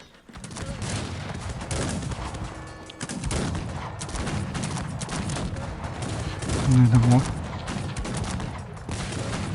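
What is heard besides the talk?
musket gunfire in video game Cossacks 3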